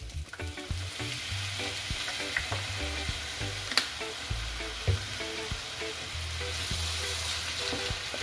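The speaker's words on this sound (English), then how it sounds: "Next up, let's add our soy sauce." Steady loud sizzling of egg-fried rice with kielbasa in a hot pan as soy sauce goes in, with intermittent scraping and clinks of stirring throughout, close and continuous.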